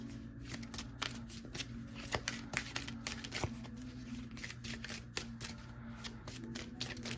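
A deck of tarot cards shuffled close by, with fast repeated crisp flicks and riffles over a faint steady hum, no talking.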